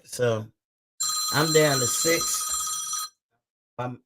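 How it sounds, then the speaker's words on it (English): A telephone bell rings loudly for about two seconds, a sustained trilling ring with people talking just before and after it and over its start. "So sorry for the phone ring,"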